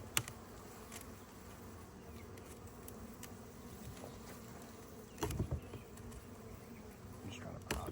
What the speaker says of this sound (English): make sure you save this cover, because you don't want your bees flying out everywhere.